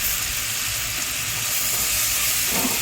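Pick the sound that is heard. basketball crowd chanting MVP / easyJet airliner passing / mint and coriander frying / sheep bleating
mint and coriander frying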